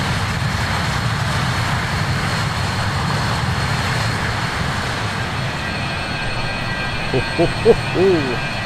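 Engines of an Aer Lingus RJ85 airliner in the Microsoft Flight Simulator 2020 game drone as a steady, fairly loud broadband roar, with a brief voice breaking in near the end.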